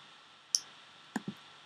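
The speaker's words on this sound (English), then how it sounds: "Clicking on the Edit button" A computer mouse clicks on an Edit button, a few sharp close ticks: one crisp click, then a quick pair a moment later, against near silence.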